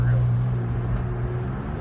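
Deep, steady rumble of a 2013 Ford Explorer engine with its muffler deleted, droning loud and close with a low throaty tone, while people talk over it.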